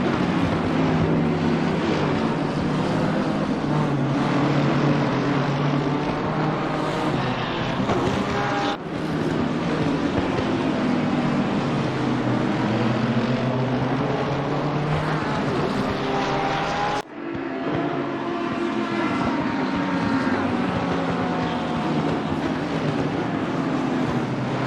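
A BMW GT3 race car in Assetto Corsa Competizione, its engine droning steadily at high revs with harmonic whine, brief abrupt cuts like gear shifts, loud and continuous throughout.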